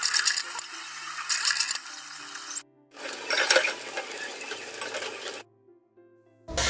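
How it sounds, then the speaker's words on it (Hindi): Mutton roasts and browns in a pot, a loud close sizzle broken by stirring, cutting out abruptly twice between bursts of frying. "अब हम गोश्त को अच्छी तरह ब्राउन करेंगे, रोस्ट करेंगे।"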